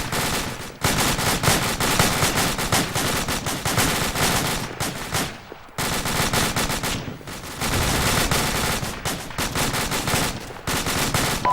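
Sustained heavy gunfire in a military combat game, dense overlapping automatic bursts and shots that run almost continuously, loud and close, with two brief pauses.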